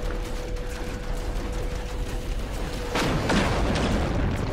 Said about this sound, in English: we're just going to have to hit it with the gun then